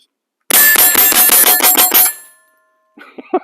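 A rapid string of about eight shots from a Ruger 10/22 rifle fired at steel targets outdoors, each crack ringing with a metallic ping, followed by a brief pause and a few fainter distant clangs.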